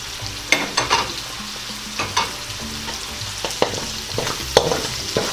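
Onion, ginger and garlic sauté in a pan while a utensil stirs them, producing a gentle sizzle broken by repeated scraping clacks and soft knocks spaced irregularly throughout.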